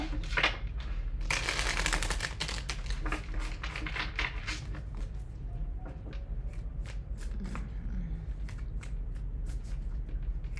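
Close riffling of tarot cards, a dense burst early on and then scattered softer flicks and taps over a low steady hum.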